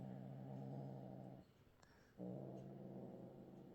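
A low, rumbling growl from a small kitten guarding a bowl of chicken, held steadily, breaks off briefly and then resumes, close but quiet.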